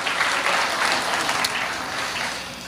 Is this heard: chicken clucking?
no